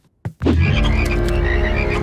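Cartoon frogs croak loudly and repeatedly in a dense, buzzing chorus, close and continuous after a brief thump at the start.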